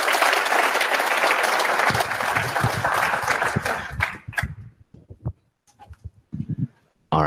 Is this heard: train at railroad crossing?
no